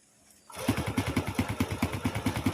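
A Honda Prima motorcycle, repaired for hard starting with a replaced ignition coil, fires up after a quiet half second and settles into a close, loud, steady, rhythmically pulsing idle.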